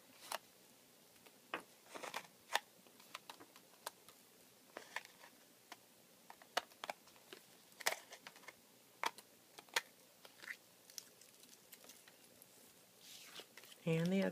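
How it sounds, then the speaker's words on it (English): Scissors trimming the edges of layered paper die cuts, a quiet series of short, irregular snips and clicks close by. "use some scissors to trim off the edges"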